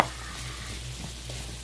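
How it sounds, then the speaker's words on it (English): Potatoes and onions fry in a pan alongside hamburger, giving a steady, close sizzle with faint stirring clatter throughout and no talking. "so the taters and the onions are frying here"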